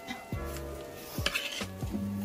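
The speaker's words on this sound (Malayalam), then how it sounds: "നന്നായിട്ട് ഇളക്കി കൊടുക്കാം" A spoon stirs a traditional Kerala beef curry with coconut pieces in a pot, making close metallic scrapes and clinks against the pot along with ringing tones in a few quick sweeps.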